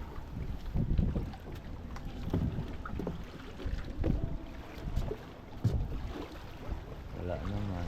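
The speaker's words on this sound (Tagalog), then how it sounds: "May tubig dito yung ating bangka." A small bangka boat sitting in water near a beach, with steady lapping and wind buffeting the microphone throughout, broken by occasional knocks and bumps.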